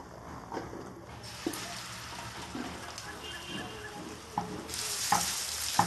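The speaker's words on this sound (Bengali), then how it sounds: "তেলটা আমার গরম হয়ে গেছে আমি এবার গোল গোল করে বড়াটা" Small shrimp fritters (kucho chingri bora) dropped into hot oil, frying with a steady sizzle, a few sharp clinks and a louder, brighter hiss burst near the end; no one speaks.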